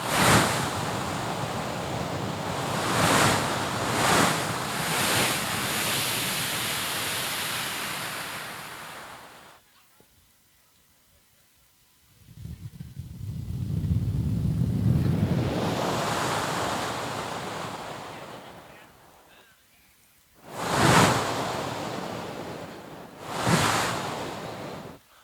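Ocean waves roar onto a beach in long surging swells with wind buffeting the microphone, each wave building, crashing loudly and fading into brief quieter lulls between breakers.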